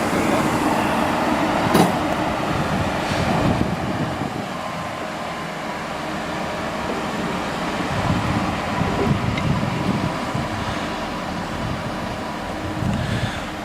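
A Chiltern Railways train at a station gives a steady, loud rumble with wind buffeting the microphone and a few faint clanks over about fourteen seconds, with no talking.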